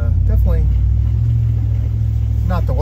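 Big pickup truck called the Red Beast driving slowly through a tight S-curve on a trail, its engine a steady low rumble throughout with brief talking over it.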